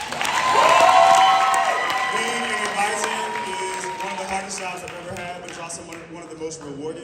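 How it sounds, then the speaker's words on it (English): A crowd at a school senior day claps and cheers for the school advisors, a swelling burst of applause that peaks early and then fades gradually, with voices heard among it. "please clap it up for your advisors"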